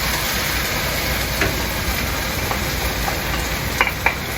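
Shrimp sizzle in a hot pan with a cornstarch-thickened Kung Pao sauce, a loud, steady, close hiss throughout with a few faint clinks near the end.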